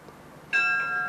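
Starting bell at Moonee Valley races, a single clear ring struck partway through and sustaining a bright, steady tone to the end, loud over quiet crowd ambience.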